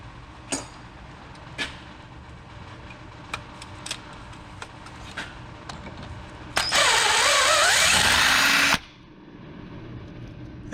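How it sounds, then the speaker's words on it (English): A power drill whirs loudly for about two seconds, its pitch dropping as successive bits drill out a threaded hole on a Tahoe, after a series of sharp clicks and taps. "I'm drilling that out with multiple different drill bits"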